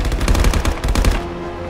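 Rapid automatic gunfire in the Call of Duty VR game on the Hijacked map, a dense loud burst of shots lasting about a second before trailing off into a ringing tail.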